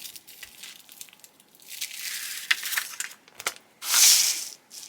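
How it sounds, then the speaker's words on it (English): Backing paper being peeled off a layered vinyl decal, close crinkling and tearing rasps in uneven bursts, building to a louder ripping stretch near the end, no talk. "peel back the backing paper from the back"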